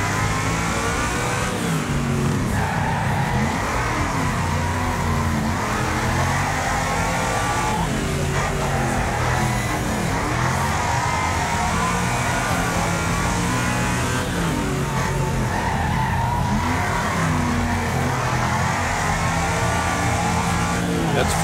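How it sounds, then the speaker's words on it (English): A car engine held at full throttle in the racing game Wreckfest, rear tires spinning, drones loud and steady throughout with revving surges and a gritty mid-pitched roar, no voices. "Full throttle and it just spins the tires in the back"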